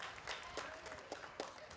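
An audience applauds at a breakfast show event, a faint, brief patter of clapping that sounds fairly distant.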